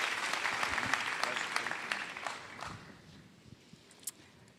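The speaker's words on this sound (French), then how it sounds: "je vous invite à applaudir une prophétesse de la France" An audience at a Christian revival conference in Paris applauds warmly, the clapping strong at first and then tapering off into scattered claps and room noise.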